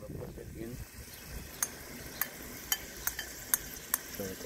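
Freshly grated garlic and ginger hit a hot pan on a rocket stove, a soft steady sizzle punctuated by several sharp metallic clinks of a utensil stirring, with brief talk near the start.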